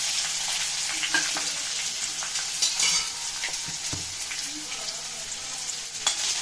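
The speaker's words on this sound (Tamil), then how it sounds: "கண்ணாடி பதத்துக்கு நல்லா வதக்கிடுவோம்" Onions sizzle steadily in a hot pan, with occasional scraping as they are stirred.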